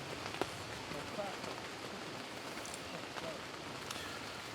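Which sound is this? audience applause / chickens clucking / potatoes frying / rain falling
rain falling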